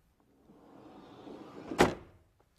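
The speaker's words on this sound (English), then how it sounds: "The wide sliding entry door" A Roadtrek Class B camper van's wide sliding door rolls along its track for a couple of seconds, then thuds shut with one solid latch clunk, fairly close.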